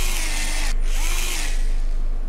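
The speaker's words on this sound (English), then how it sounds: "We have a drill that starts to spin if we press the trigger" A video game power drill whirs steadily, its motor pitch briefly dipping and rising midway, with a dense, buzzing mechanical texture throughout.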